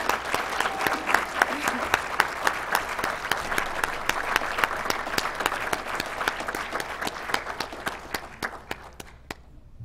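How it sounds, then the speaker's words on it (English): A crowd at a police basic patrol academy commencement at North Idaho College gives a long round of applause, loud and crisp with distinct claps, thinning out and fading near the end. "Round of applause for them,"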